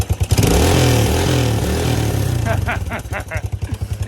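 A Kawasaki KLT250 engine, just fitted with a replacement CDI, runs loud and close, settling from a revving drone into a lumpy, rhythmic putter as it idles.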